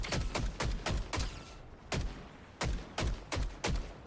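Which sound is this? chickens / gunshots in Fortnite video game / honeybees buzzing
gunshots in Fortnite video game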